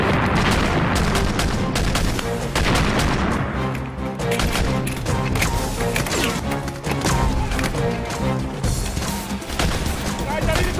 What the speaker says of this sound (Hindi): फायर जारी रखो, मैं आगे निकल रहा हूँ।